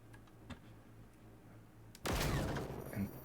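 Gunfire in the video game Generation Zero, heard as a sudden burst of rapid shots that takes over after a stretch of quiet game ambience and a few clicks.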